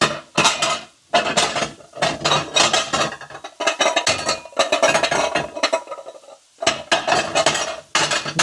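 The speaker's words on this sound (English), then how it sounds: "Let me grab the pan that I'm gonna put the roasted potatoes in." Metal pans and cookware clank and scrape repeatedly in a kitchen as a roasting pan for roasted potatoes is pulled out, a busy run of close, bright clattering bursts with short pauses.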